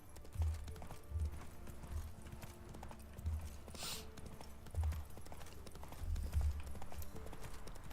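Roach, the horse in The Witcher 3, gallops with steady clip-clop hoofbeats in repeated bursts, close and fairly loud over a busy game soundscape, with no speech.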